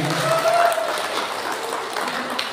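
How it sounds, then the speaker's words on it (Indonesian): Audience applause at a birthday celebration event in Dieng, Central Java, a steady wash of clapping at moderate level, with a brief tonal whistle-like sound early on. "Tepuk tangan bagi kita semuanya."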